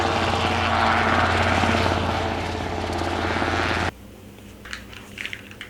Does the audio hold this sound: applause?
no